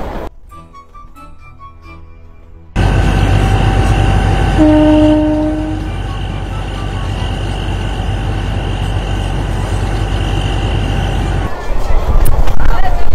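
An old passenger train, a British-era service, rolls steadily along the tracks with a loud, continuous rumble and rattle that grows louder after a few seconds. A brief horn tone sounds partway through, and speech-like sound is mixed in.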